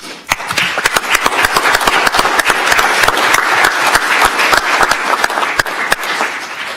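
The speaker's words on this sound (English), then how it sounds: "can we give them a round of applause?" Loud, close audience applause with dense sharp claps at a county commissioners meeting, sustained for several seconds without talk.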